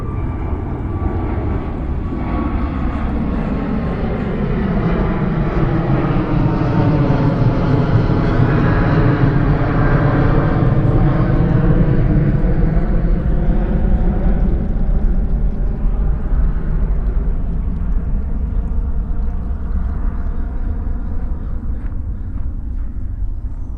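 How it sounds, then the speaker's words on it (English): Airplane passing over a botanical garden, a loud roaring engine drone that swells as it approaches, peaks overhead with a sweeping pitch change, then slowly fades, with no talk. "Here comes another plane."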